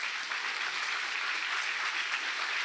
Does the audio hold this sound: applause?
yes